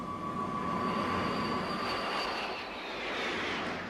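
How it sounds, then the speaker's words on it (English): Military planes over the Korean War front drone overhead in old archive footage, a steady broad engine roar with a faint whining tone that slowly shifts pitch, no voices. "Flying round the clock, its planes tried to slow the advance."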